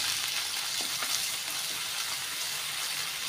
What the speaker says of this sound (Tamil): வெங்காயம் நல்லா வறுத்து விட்டுக்கோங்க.